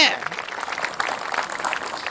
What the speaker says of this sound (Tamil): அதுக்காகவே குழந்தைக்கு ஒரு பெரிய கைத்தட்டல் கொடுக்கலாங்க.